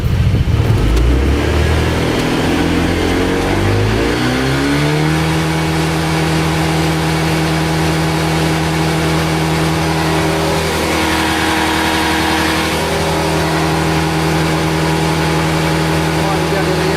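A Honda PCX 160 or Yamaha NMAX scooter engine, running on its centre stand during a drag test, revs up hard from idle and then holds a loud, steady high-rpm drone at its limit, with voices talking underneath.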